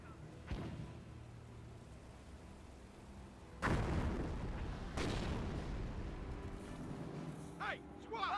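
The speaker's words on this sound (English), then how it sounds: "Mortar firing away. Anti-tank, ready for order. Incendiary mortar landed." Incendiary mortar firing and landing in Company of Heroes, with a muffled launch thump followed by two heavy booming impacts a second apart, a rumble trailing each, and a voice talking over the battle.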